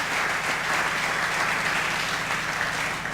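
Congregation applauding to acclaim the Lord during a French-language church service, a steady dense wash of clapping that fills the whole moment without letup.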